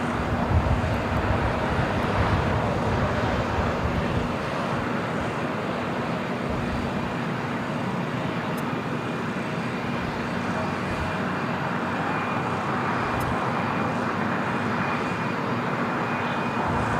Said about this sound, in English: we got that British Airways 777-300ER now rolling down at 25 right